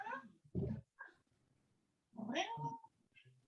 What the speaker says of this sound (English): My sister has a new cat.